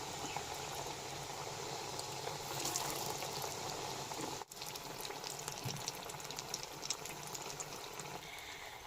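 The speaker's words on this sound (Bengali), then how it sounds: "পিঠেগুলো এক এক করে তেলের মধ্যে দিয়ে ভালোভাবে ভেজে নেব" Dudh gokul pitha cakes deep-frying in oil over medium heat, a steady dense bubbling sizzle that runs nearly unbroken for the whole stretch, close and fairly loud, with only a brief dip midway and no talking.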